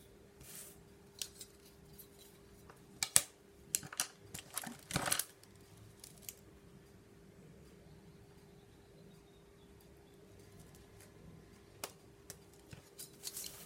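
Scissors cutting paper for a small handmade notebook, a few quiet crisp snips clustered together and then sparse isolated cuts, faint and close in a quiet room with no talking.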